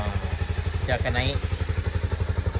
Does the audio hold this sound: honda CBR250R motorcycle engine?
yes